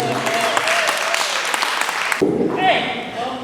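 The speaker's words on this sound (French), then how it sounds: "Est-ce que vous pouvez acclamer pour vous?" An audience at a Congolese community evening in Drummondville, Canada, breaks into loud, dense clapping for a couple of seconds. The crowd noise then shifts into a more scattered sound, with people talking over it.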